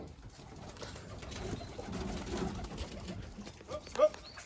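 Pigeons cooing near a racing loft as birds return from a 100 km old bird race, a soft muffled throaty burble with a brief sharper call near the end.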